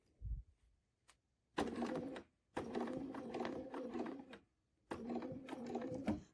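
A sewing machine quilting a feather arrow panel runs in three bursts: a short one, a longer steady run of rapid stitching, then another sustained run, separated by quiet pauses with a faint click or two, close and mechanical.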